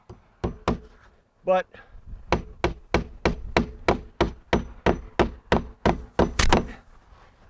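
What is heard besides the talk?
hammering nails by hand into Azek trim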